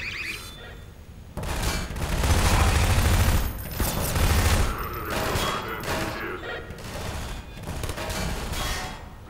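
Bursts of enemy gunfire in the video game Half-Life 2, rapid overlapping shots and booms sustained loudly throughout with dense, chaotic layering.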